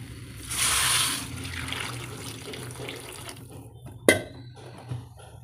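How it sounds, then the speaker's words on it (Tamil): Tamarind water dissolved in rice-washing water is poured into a pot of Tamil mochai kottai puli kuzhambu. A brief splashing gush comes near the start, followed by a softer trickle and a sharp clink of a vessel near the end. "இப்போ குழம்புல ஊற்றிக்கலாம்."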